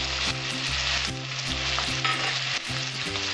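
Cumin, chili and coriander spice pastes frying in a pan for a Bengali raw jackfruit and prawn curry make a loud, steady sizzle with stirring scrapes, close up, and no voices over it.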